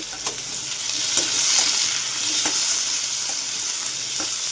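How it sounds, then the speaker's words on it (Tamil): Potato pieces fry in oil in a pan while cooking in the Odisha style, a steady close sizzle with soft periodic stirring scrapes and no talking. "இப்போ இந்த பக்கம் உருளைக்கிழங்கையும் போட்டாச்சு. இது நல்லா வந்து ஃப்ரை ஆகட்டும்."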